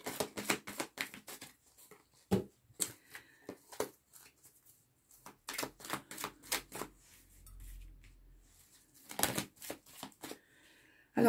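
Tarot cards are shuffled by hand for a general draw, a run of quick, crisp riffling and slapping bursts with short pauses between them, close and fairly quiet.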